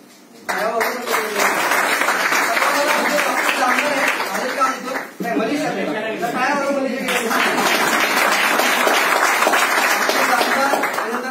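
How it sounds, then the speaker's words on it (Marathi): Sustained audience applause fills the room for several seconds, briefly dipping near the middle before resuming just as strongly, with a voice talking over the clapping. "जोरदार टाळ्या वाजवा"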